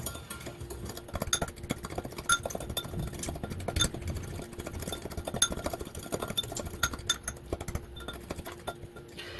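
Ground cinnamon and sugar coating is stirred in a bowl, giving a steady run of light clinks and scrapes from a utensil against the dish, close and moderately quiet.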